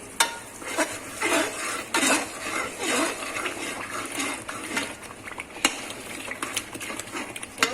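A metal spoon stirs green chilli powder into biryani in a pot, making short scraping and clinking strokes at an irregular rhythm over a faint bubbling sizzle, close and moderately quiet, with no voices.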